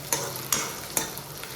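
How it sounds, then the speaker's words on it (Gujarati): Chillies and onions fry together in a pan, a steady low sizzle broken by three sharp stirring scrapes spaced about half a second apart, close and fairly quiet with no talking. "અહીંયા મરચાં ડુંગળી બંને સાથે નાખી દીધું છે"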